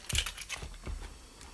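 Car keys jangle and clink softly for a moment as they are handled, close up in a quiet room.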